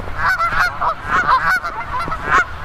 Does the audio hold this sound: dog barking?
no